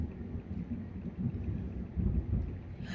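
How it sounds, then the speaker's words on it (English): Fireworks going off outside in a continuous low rumble of distant booms and crackle, muffled and fairly faint, with no talking. "all that noise you're hearing is fireworks"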